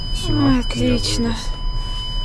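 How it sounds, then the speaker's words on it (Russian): Car parking sensor warning beeps sound repeatedly because the sensors are covered with snow, a few short high electronic tones rising over someone talking inside the vehicle. "Она ругается за то, что у меня залеплены все датчики."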